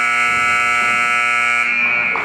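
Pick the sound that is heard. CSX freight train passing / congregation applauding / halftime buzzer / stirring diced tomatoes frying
halftime buzzer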